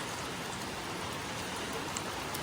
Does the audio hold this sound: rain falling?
yes